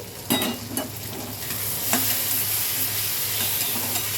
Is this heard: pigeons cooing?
no